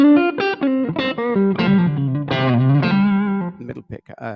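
An Olympic White 1963 Fender Telecaster electric guitar plays a loud, close run of picked notes and chords, with a few quieter choppy notes at the end.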